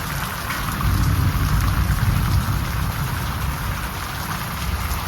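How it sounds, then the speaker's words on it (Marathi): Heavy rain during a thunderstorm on a Lakshmi Puja evening, a dense steady roar of downpour hitting surfaces nearby, loud and continuous without voices. "आता बघा जास्तच पाऊस आला"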